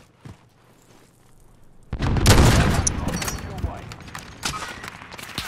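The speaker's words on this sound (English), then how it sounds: "I'm getting shot from everywhere." Heavy gunfire in the online shooter Call of Duty Warzone, a dense burst of shots and impacts that swells loud and keeps crackling in a rapid, uneven stream, with voices talking over parts of the exchange.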